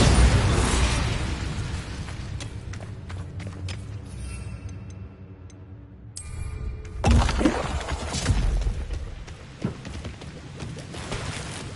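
A Bombarda blasting spell explodes in a wizard video game, a loud burst that collapses into a sharp cracking blast, fades into a quieter, near-silent gap, then swells again with rumbling debris and scattered pops.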